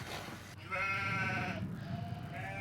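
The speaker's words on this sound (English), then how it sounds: "Sure enough, the goats were there, looking as if they were grazing normally" A herd of goats bleating in a valley where they graze, with several overlapping wavering cries close by over a steady low background rumble.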